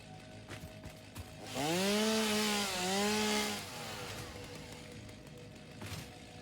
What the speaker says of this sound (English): Thank God I have a chainsaw.